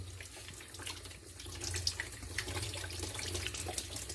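A tap runs steadily into a bathroom washbasin, rinsing out the sink's drain trap after unclogging; a continuous, moderately loud splashing water flow with no talking.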